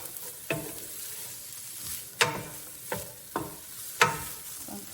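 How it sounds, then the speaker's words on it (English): Onions sizzle as they cook down in a pan, with a steady fry under several scraping stirs of a utensil, close and moderately quiet. "I'm going to cook down the onions"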